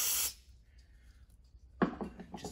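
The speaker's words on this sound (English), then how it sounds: "spray a little brake clean on there" Brake cleaner is sprayed onto a Jeep Grand Cherokee front differential, heard as a short loud hiss that cuts off abruptly, followed by quiet and then a burst of clattering tool and handling noise.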